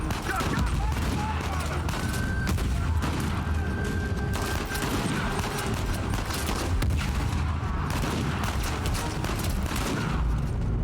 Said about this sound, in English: So, first, I'm gonna hit a couple of close by grenades.